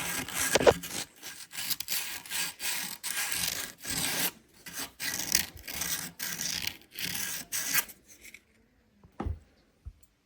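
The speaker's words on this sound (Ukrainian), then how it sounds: "можна трішки обробити наждачкою, повищати всі місця" Sandpaper rubs against a SiC ring insert in quick, rhythmic scratching strokes, close and moderately loud, continuing for about eight seconds before stopping, followed by a couple of faint knocks.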